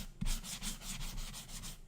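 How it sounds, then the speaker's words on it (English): A sanding block rubs across a 3D-printed part in repeated back-and-forth strokes, about eight soft rhythmic scrapes, quiet and close, with no talking. "You kind of want to sand across it"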